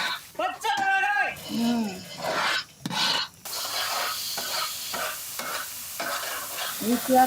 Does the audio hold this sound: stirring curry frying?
yes